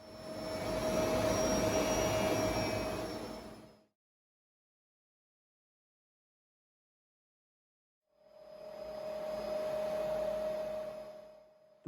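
Pratt and Whitney equipped L-29 Super Delfin jet engine roaring with a steady whine, fading out to silence and then rising again to a sustained drone.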